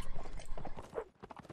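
Horse hooves clattering in Mount and Blade Napoleonic Wars, a quick uneven run of clip-clop beats close by, briefly dropping out near the end, amid battle noise.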